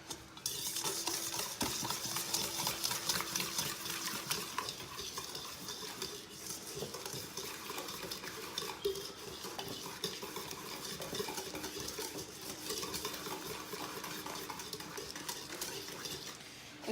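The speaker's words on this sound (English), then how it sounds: "you're going to whisk this together until it's combined" Eggs and sugar whisked together in a bowl, a steady, continuous scraping and clinking of a whisk against the bowl that runs unbroken throughout, close and moderately loud with no talking.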